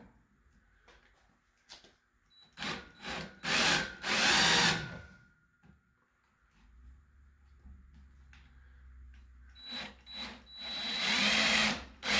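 A drill with a sharp bit bites steadily in several bursts, whining and grinding loudly up close, with brief pauses and a low rumble between runs, while installing jack posts.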